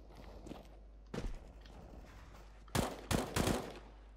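Rifle gunfire in the video game CS:GO, a few separate shots followed by a tight burst of three or four rapid cracks, fairly quiet over faint game ambience.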